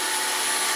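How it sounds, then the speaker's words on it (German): A HYLA wet-dry vacuum cleaner washes a bathroom floor, giving a loud, steady rushing drone that stays close and unbroken with no speech. "mit dem kann man nicht nur Staubsauger, sondern auch Boden waschen"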